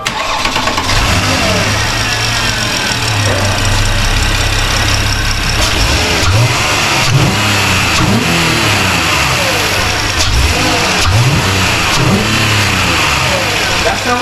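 Porsche Panamera starting from cold, then idling roughly and revving repeatedly in loud close bursts over a constant engine drone, with brief voices in the background.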